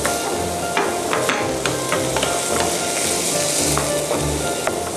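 Potatoes and carrots stir-fried in a pan give a steady loud sizzle, with a spatula scraping and clacking against the pan at irregular moments throughout, and no voices.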